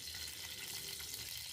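Cumin and mustard seeds crackle in hot oil in a pot over a low gas flame, a steady close sizzle with dense fine popping throughout and no voices.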